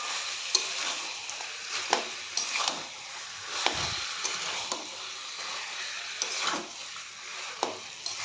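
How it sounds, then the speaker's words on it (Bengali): Chicken curry masala sautéing in a pan, a steady frying sizzle with repeated stirring scrapes and light utensil clinks at an even rhythm, close and alone without talk. "এভাবে আমি ভালোভাবে কষিয়ে নেব যতক্ষণ না জল থেকে তেল ছাড়ছে ততক্ষণ।"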